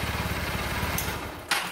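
A motorcycle with a dead battery is push-started by hand and its engine catches, running with a steady, close, uneven putter throughout, with a brief sharp burst near the end.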